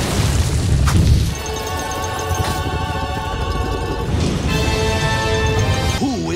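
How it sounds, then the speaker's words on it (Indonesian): An explosion in a Kung Fu Panda animated episode, heavy low rumbling booms at the start that settle into a dense crashing roar mixed with tonal music through the rest. "tidak disangka ada ledakan dan muncullah Tao-Ti dengan robot mesinnya"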